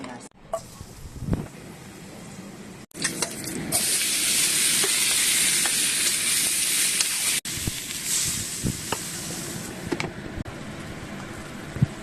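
Preserved sausage and radish sautéing in a hot pan, a steady loud sizzle with stirring scrapes and clinks, rising in intensity partway through.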